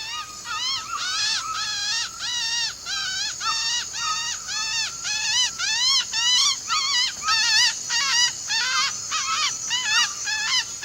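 A man in the jungle whistles a bird call while hunting with a blowgun, a run of repeated rising and falling chirps across the whole stretch, close and fairly loud over a faint outdoor background. The birdlike calls are a human imitation.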